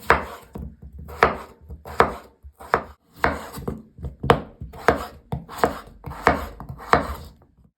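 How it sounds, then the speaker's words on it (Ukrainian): Small potatoes are chopped with a knife on a board, about a dozen crisp close chops in an irregular rhythm with brief gaps between strokes. "Беремо картоплю. 7-8 картошин таких невеличких. Нарізаємо."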